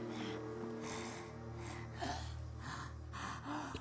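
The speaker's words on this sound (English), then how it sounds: "Someone's doing some creepy heavy breathing there." Heavy, creepy breathing in the Fallout 76 game, a series of raspy gasping breaths in rhythmic bursts, quiet and close over a low background hum.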